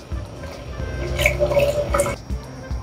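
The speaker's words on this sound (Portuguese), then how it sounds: "Vamos colocar leite" Milk pours into a flour-thickened sauce in a pan for meatball pasta bake, a close, gurgling liquid splash lasting a couple of seconds before tapering off.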